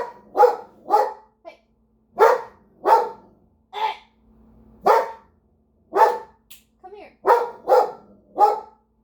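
A dog barks about a dozen times in loud, close, uneven bursts, some in quick pairs, while a person's voice briefly calls out between them.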